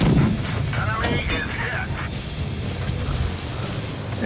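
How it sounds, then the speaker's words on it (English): A tank gun fires in a video game, a heavy booming blast at the start that rolls into a dense, rumbling tail of battle noise, with a voice speaking over part of it. "as long as you can keep this gun shooting, it can do massive damage over time"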